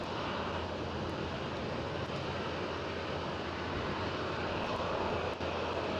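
Air Transat Airbus A321neo passing at Amsterdam Schiphol, a continuous broad jet engine roar, steady and fairly strong throughout with no talk.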